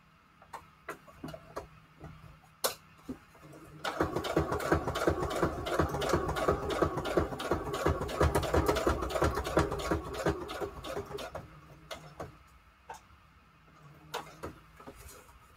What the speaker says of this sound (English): And now we're going to actually do the straight stitch.